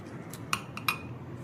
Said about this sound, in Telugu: మనం తీసుకున్న వెజిటబుల్స్, స్ప్రౌట్స్ అన్నీ బాగా కలుపుకోవాలండి.